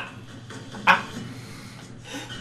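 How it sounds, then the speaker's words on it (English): A dog in the video game Broforce gives a single short yelp or whimper after being shot, brief and sharp over quiet game ambience. "That dog would have killed you if I wouldn't have shot it."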